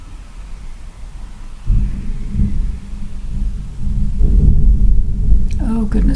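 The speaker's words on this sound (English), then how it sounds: "I don't know if you hear the thunder." Deep thunder from an approaching storm rolls in with low, booming rumbles that swell and linger, fairly loud and with no talking over it.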